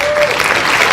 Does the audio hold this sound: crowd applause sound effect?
yes